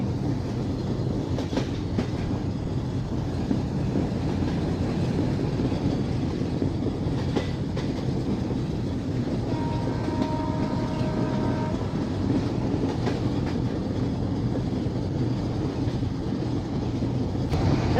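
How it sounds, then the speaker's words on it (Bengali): Rupsha Express passenger train running steadily past Khulna Junction, a local station, with a continuous loud rumble and rattle of rail cars, faint wheel clatter and a brief tonal horn-like whine in the middle. "এখন আমরা একটি লোকাল রেল স্টেশন পাস করতেছি, খুলনা জংশন।"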